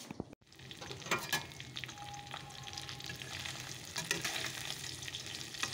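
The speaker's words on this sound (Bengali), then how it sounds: "মাছগুলো ভাজা বসিয়ে দিয়েছি।" Fish fries in a pan, a quiet, continuous sizzle broken by small scrapes and clicks from stirring.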